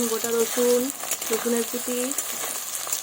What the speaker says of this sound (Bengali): রসুন কোড়া ভালোভাবে লাল লাল করে ভেজে নেব।